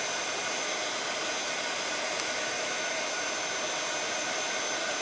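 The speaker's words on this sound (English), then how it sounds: "You can heat them up with a heat gun, like I'm using" A steady, airy blowing whine from a hot-air gun runs continuously at an even level, close by.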